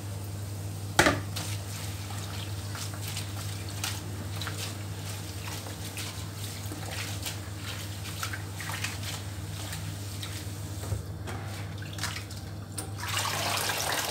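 Dishes being washed under a running kitchen tap, a steady low hum of flowing water with scattered clinks and splashes, one sharp knock near the start, continuing evenly without speech.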